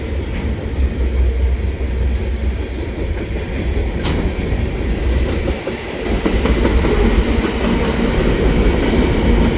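A CP freight train led by an SD70ACU locomotive in military heritage paint passes close by with a steady heavy rumble and rhythmic clatter of wagons on the rails, growing slightly louder toward the end.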